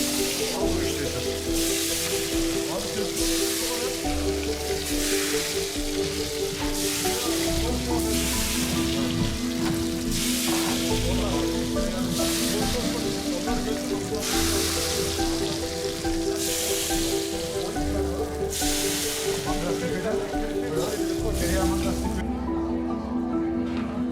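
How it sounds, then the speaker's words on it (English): Hot fried butter sizzles and crackles as it is poured over Adana tirid kebab, a dense steady frying hiss, close and loud, under background music with a regular beat. "Finally, fried butter is added and served."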